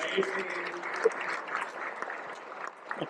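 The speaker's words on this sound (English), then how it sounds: "Let's give Justine a round of applause." Applause from a crowd at an automotive industry dealer awards event, steady clapping mixed with voices talking over it throughout.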